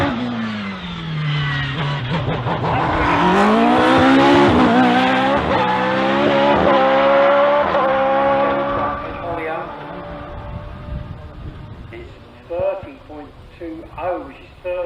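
A hillclimb race car on the British HillClimb Championship course at Gurston Down accelerates hard, engine note climbing loudly through the gears before easing off and fading, with no voices over it.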